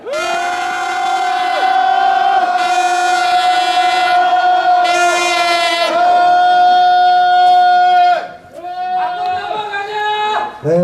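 A candlelight protest crowd outside a former president's house lets out a loud sustained roar of voices, holding the shout for several seconds, dipping briefly, then surging again.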